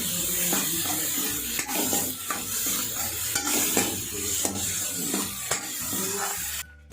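Tomato, onion, coriander and cumin powder frying in a pan over a gas flame, with a steady sizzle and repeated scraping stirs of a spatula, close and continuous.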